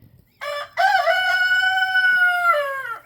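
A golden rooster, once a hen, gives one loud, close crow: a short opening note, then a long, sustained cock-a-doodle-doo that falls away at the end, with no other sound around it.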